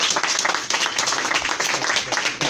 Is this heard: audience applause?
yes